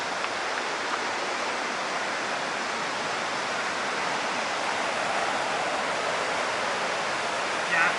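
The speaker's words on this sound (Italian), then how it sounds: "le famose cascate di Fanes" Fanes waterfalls in the Dolomites roar as a steady, broad rush of falling water, continuous and fairly close, with no voices over it.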